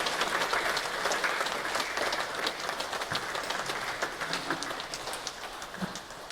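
Attendees at a Korean veterans' memorial prayer gathering applaud in a steady, fairly even patter of many hands that continues at moderate volume, slightly thinning toward the end.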